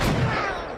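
A single gunshot from a powerful one-shot-kill gun in the video game The Last of Us, loud and close, with a short decaying tail and no talk over it.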